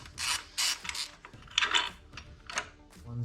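Ratchet clicking in short bursts while loosening a mount bolt on a Mini Cooper supercharger, several quick close ratcheting strokes with pauses between them.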